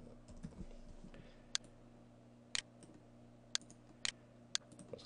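Keystrokes on a computer keyboard while typing an email subject line, a sparse, irregular run of crisp taps at close range over a quiet hum.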